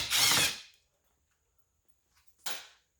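A cordless power drill whirs in two short bursts while backing screws out of a car intake on a Mk7 or Mk7.5 Volkswagen, each burst under a second with a quiet pause between, close and alone.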